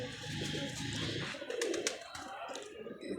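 Pigeons coo softly inside a loft, low throaty calls repeating near the start while small chirps and rustles follow, fairly close and moderately quiet.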